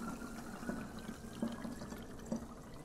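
Sixteen ounces of water pour into a jar for an aluminum sulfate purification concentrate, a soft, steady trickle with a few faint splashes, quiet and close, with no talk.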